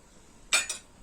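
Two quick clinks close together as sour cherries drop into a metal cooking pot, with quiet room tone before and after.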